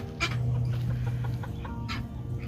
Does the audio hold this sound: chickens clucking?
yes